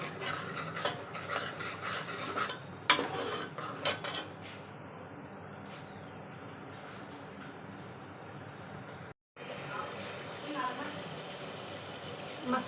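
Spice masala roasts and is stirred in a pan in a home kitchen, with steady scraping and rubbing of a spoon against the pan under speaking voices.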